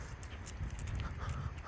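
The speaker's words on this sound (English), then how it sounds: "He's training his dog." A dog pants quickly and rhythmically nearby outdoors, soft breathy puffs with faint footstep-like patter, no voices.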